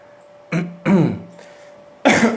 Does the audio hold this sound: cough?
yes